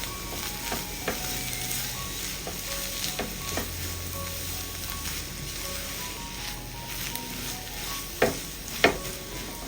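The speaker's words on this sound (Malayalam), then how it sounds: "എല്ലാം കൂടിയിട്ട് ഒന്ന് ഇളക്കി യോജിപ്പിച്ചെടുക്കാം" A chapati mixture frying in oil in a pan is stirred and mixed, a steady sizzle running throughout with scattered scraping clicks of the spoon and two sharper knocks near the end.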